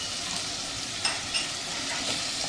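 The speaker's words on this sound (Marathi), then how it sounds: "छान असं आपण परतवून घेऊया" Red chili powder and spices sauté in a hot pan for a masale bhat, making a continuous close frying sizzle broken by a couple of brief scraping stir sounds.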